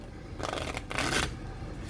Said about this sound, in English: I'm going to shuffle and pull a card.